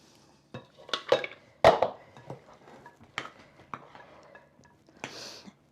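Spoon folding white Christmas cake batter in a mixing bowl gives irregular close clinks and knocks against the bowl, with softer scraping and thick wet turning sounds in between.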